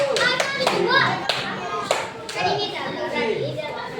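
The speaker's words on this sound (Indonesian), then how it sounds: "Tepuk tangan untuk nomor 4" A classroom of children claps for a group, giving a few sharp, uneven bursts of hand claps mixed with chatter and excited voices, with an adult speaking nearby.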